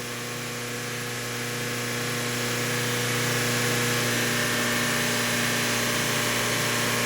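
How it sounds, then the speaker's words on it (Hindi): A car engine held at a steady 3500 rpm during load testing for an ECM fault, giving a constant droning hum with a tonal whine that swells over the first few seconds and then holds level and loud, with no talking. "इसे 3500 आरपीएम ले जा, मेंटेन रख यहाँ पे"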